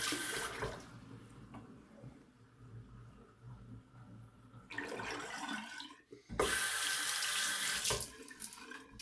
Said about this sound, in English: I'm going to drain this water a little bit more.